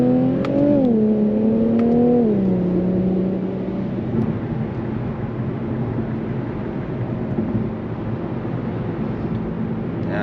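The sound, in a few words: Infiniti Q50 Red Sport 400 twin-turbo car redlining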